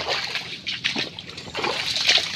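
Water bubbles and sloshes inside a crab burrow in shallow water, a close, irregular run of wet splashes and trickles with gurgling bursts throughout.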